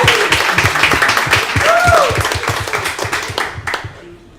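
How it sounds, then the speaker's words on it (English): An audience at a girls' lacrosse state championship celebration claps for Emma, brisk rhythmic clapping with a faint voice over it, fading out at the end. "let's clap it up for Emma. We're gonna clap."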